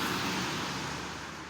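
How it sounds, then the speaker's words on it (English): Steady roadway traffic noise from cars and heavier vehicles, a continuous broadband rumble and hiss at moderate distance with no pauses, filling the whole stretch without voices. "you can hear the sound of the traffic and the birds"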